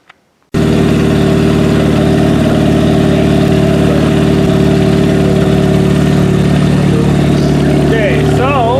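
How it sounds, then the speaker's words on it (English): A Chevrolet G6 engine with an unhealthy sound runs at a loud, steady idle with a rough, droning tone from start to finish, and a short rising whine appears near the end. "this motor does not sound healthy."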